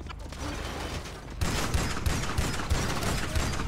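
Rapid bursts of gunfire crackle in GTA 5, several sharp shots in quick succession over a dense noisy background.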